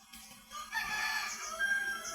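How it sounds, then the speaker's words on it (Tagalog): A rooster crows nearby in a drawn-out call, with other chickens faintly clucking around it outdoors. "Nakikita mo yung mga manok na yan. Mga manok na papa at ng kapatid ko."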